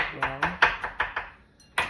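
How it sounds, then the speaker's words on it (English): A knife chops fresh garlic on a cutting board in a home kitchen, making about eight evenly spaced, crisp close taps that slow and fade before one last firm chop. "So I'm just dicing"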